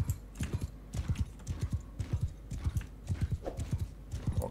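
Horses gallop in a medieval video game battle, a dense run of hoof clip-clops thudding in uneven rapid clusters at moderate loudness, many animals at once, with no speech.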